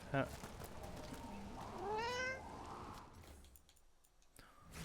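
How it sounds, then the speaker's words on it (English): A cat in the Dragon Age: The Veilguard video game gives one clear, rising little meow in the middle, under quiet game ambience with a voice nearby. "Did you hear the little meow?"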